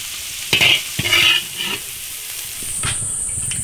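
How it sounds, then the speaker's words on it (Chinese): Chili peppers stir-fried in oil in an iron wok with a little salt: a steady sizzle under repeated scraping strokes of a spatula against the metal, close and fairly loud, with a thin steam hiss rising near the end. "先把辣椒炒一下，少加点盐，炒至断生"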